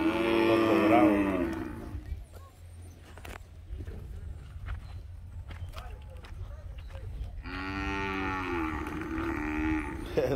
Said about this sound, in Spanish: Voy a ver de esta vaca esto.